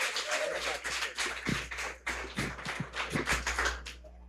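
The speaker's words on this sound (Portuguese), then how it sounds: "Aplauda o nome do Senhor Jesus." A church congregation claps and applauds steadily, with a few louder individual claps standing out and a voice faintly mixed in underneath.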